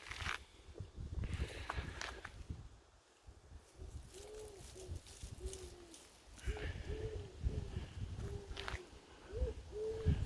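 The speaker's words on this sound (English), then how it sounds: "as you can hear in the background, somewhere up there, the greedy pigeons" Soft, repeated cooing calls from pigeons somewhere above, several two-note coos spaced out over steady outdoor background noise.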